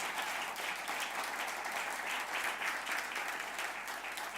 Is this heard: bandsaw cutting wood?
no